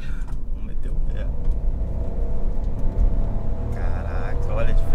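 A Chevrolet Tracker Premier 1.2 turbo running on natural gas accelerates at full throttle, a steady low engine rumble heard from inside the cabin, with people talking briefly over it.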